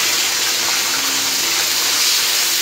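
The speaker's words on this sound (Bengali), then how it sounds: "এখন মশলা দেওয়ার জন্য একটু পানি দিয়ে" Water poured into a pan of browned fried onions before spices go in: a loud, continuous close gushing splash with the hiss of the hot pan underneath, unbroken throughout.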